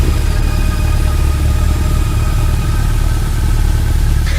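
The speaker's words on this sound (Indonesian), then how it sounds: "Dan akhirnya mesin motor kembali menyala." A motorcycle engine, started with an electric starter on a lonely road in heavy rain, runs with a loud, continuous, even rumble close by from start to finish, with no voices.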